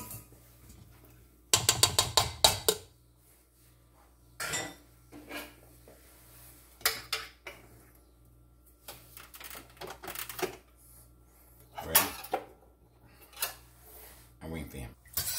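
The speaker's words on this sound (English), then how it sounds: "we're adding the custard to our milk. Constantly stirring." Custard is stirred into milk in a metal pot for old-fashioned ice cream, bursts of rapid clattering spoon-against-pot scraping and clinks with gaps between, close by.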